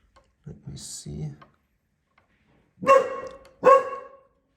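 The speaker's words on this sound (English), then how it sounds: "Sorry for my dog barking here," A voice speaks briefly, then a dog barks twice, close and loud, with a short gap between barks.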